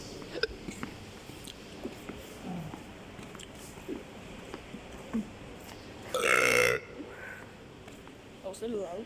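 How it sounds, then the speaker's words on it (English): A single loud, rasping burp in a shopping mall, bursting out abruptly over soft indoor background murmur and scattered nearby voices, with quieter mouth noises before and after. "So I'm gonna burp at the mall really loud and see what happens."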